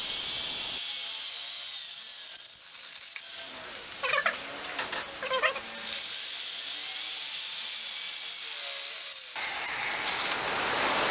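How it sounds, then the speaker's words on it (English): A drill whines as it bores a hole in a part for a budget 125cc bobber motorcycle build, running in several high-pitched bursts with brief pauses between them, close by and fairly loud. "when I drill a hole I like to start with a smaller drill first"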